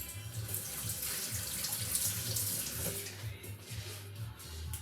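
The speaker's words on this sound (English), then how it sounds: "Give that a little rinse." Tap water runs steadily from a kitchen faucet to rinse a small measuring spoon while baking a berry crumble cake, a continuous close splashing hiss with low gurgles in the sink.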